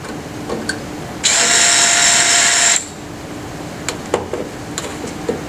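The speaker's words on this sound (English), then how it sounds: "Do the same thing, drill our hole." A power drill bores a hole in wood for a can receiver frame, a loud steady whine lasting about a second and a half, bracketed by quieter handling clicks and knocks.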